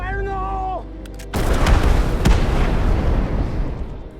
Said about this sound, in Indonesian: Hingga tak lama kemudian mereka meledakkan pesawat itu.